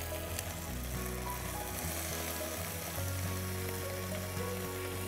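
Paneer pieces fry in a hot pan for a dried red chilli paneer fry, giving a steady, dense, close sizzle that runs unbroken throughout with no talking.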